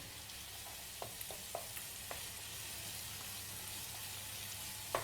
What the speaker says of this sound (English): it's time to add the fennel seed and stir it in.